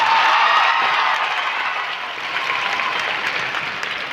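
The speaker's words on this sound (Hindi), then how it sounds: "खाली कुर्सियों के हिस्से की भी तालियां बजा के बताइए कि आपका कितनी ऊर्जा है" Sustained applause from an audience at a 25th silver jubilee celebration of the Ambedkar Group of Institutions, a dense, even wash of clapping that stays loud throughout and eases slightly toward the end.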